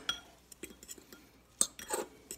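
Light clinks and taps of a utensil against a bowl while pepper seasoning is mixed for ribs, several soft scattered knocks, quiet and close, with no talking.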